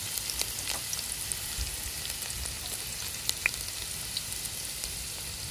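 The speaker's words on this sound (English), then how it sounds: "We're going to go in with our garlic" Garlic and onion frying after whole cumin seeds were toasted, for a fish curry: a constant soft sizzle with occasional faint stirring clicks and small pops, moderately quiet and without voices.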